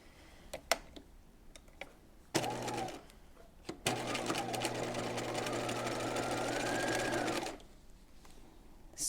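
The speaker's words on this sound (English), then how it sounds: "we are just going to edge stitch along the lower edge of the pocket" Edge stitching along the lower folded edge of an apron dress pocket: a sewing machine whirs in two runs, a short burst and then a longer steady stretch, with light handling clicks before, between and after.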